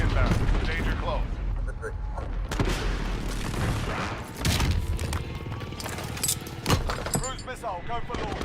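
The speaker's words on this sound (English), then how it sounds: "Friendly precision airstrike on the way." A video game battle with precision airstrike explosions and gunfire, a dense loud barrage of booms, cracks and mechanical clatter under radio-style voices talking throughout.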